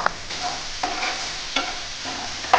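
Chicken pieces with ginger paste and tomato sauce fry in a pan, a steady close sizzle broken by a few spoon scrapes as they are stirred, with no voices.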